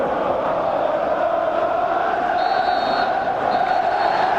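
A football stadium crowd at a Manchester United match against Sheffield Wednesday roars in a dense, steady wash of cheering, loud and continuous, with a commentator's voice faintly mixed in.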